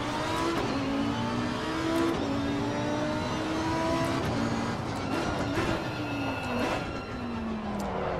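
GT3 race car in Assetto Corsa Competizione lapping a track, its engine loud and continuous, revving up and dropping with repeated gear shifts, no voices over it.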